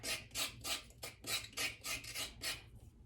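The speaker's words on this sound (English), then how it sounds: "scrape off the outer part, just in case there's any little dirt on the outside" Carrots being scraped to remove their outer skin, giving about nine rhythmic rasping strokes, close and fairly quiet, with no talking.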